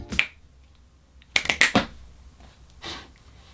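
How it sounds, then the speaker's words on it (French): Sharp finger snaps, a single crisp one near the start followed by a quick cluster of three or four close together and another after a pause, loud and close with no talking. "le claquement de doigts, ça agresse le tympan"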